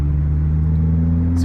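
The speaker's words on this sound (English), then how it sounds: "So one of the great things about this car is the revving." Lotus Elise sports car engine holding a steady, loud idle-to-rev drone with strong low harmonic bands, close and continuous, with no talk over it.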